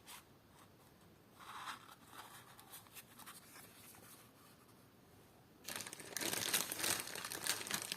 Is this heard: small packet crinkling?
yes